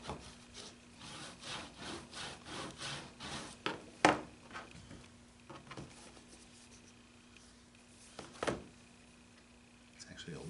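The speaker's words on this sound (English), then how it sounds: "I'm going to burnish that flat." Paper rubbed flat with a burnishing tool during Coptic bookbinding, a run of soft rhythmic scraping strokes, then quieter rubbing punctuated by a couple of sharp taps, close and faint.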